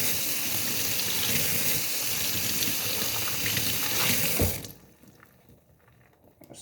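Running tap water gushes steadily into a sink while soap is rinsed off Xbox 360 parts, then cuts off, leaving faint drips and handling sounds.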